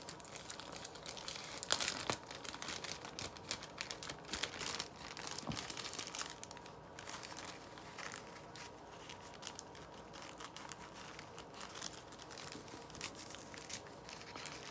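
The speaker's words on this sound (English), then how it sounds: "Get your Ziploc bag." A plastic Ziploc bag crinkling and rustling in close, irregular bursts, louder near the start, then softer handling sounds continuing throughout.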